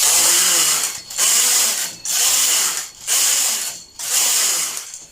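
A knitting machine carriage sweeps back and forth across the needle bed, knitting rows of a skirt, in four steady passes of mechanical ratcheting clatter with brief pauses between them.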